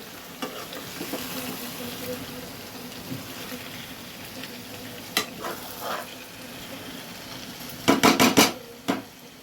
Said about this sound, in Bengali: এবার এটাকে একটু কষতে থাকলে কিন্তু আঁচটা কিন্তু এবার আমি কমিয়ে দেব